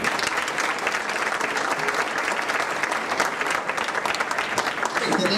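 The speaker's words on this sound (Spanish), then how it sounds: "Un aplauso." Loud, sustained audience applause greets engineer Antonio Lascano at a municipal anniversary celebration in Bustamante, a thick continuous wash of clapping filling the whole stretch.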